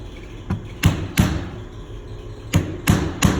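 Several sharp thuds strike at irregular intervals, close and solid, as a tool is punched down to set a DP plug until it flares.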